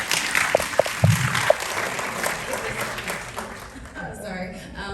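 Audience applause at a Q&A with the cast and writer of Black Bird, a broad wash of clapping that swells and then thins out over several seconds, with a few sharp claps and talk mixed in.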